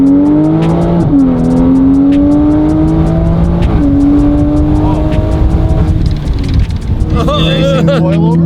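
A loud 2020 Toyota Supra with a new exhaust revs up and accelerates hard, pitch climbing through gear shifts, with a brief tire squeal near the end.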